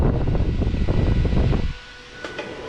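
A blower fan mounted under a DIY direct-cooling solar setup roars with a loud, broad, rumbling whoosh that cuts off abruptly partway through, leaving a quieter background hum.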